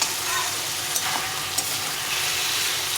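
Elephant foot yam and potato sizzle loudly with spices in a pan, a dense, constant frying hiss with a couple of faint stirring clicks.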